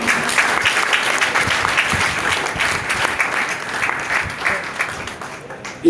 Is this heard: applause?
yes